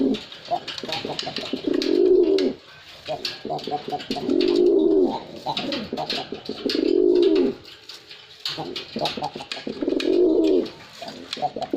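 A pair of pigeons coo in repeated low, throaty bursts roughly every two to three seconds, fairly close and loud, with other bird chirps and faint voices between the calls.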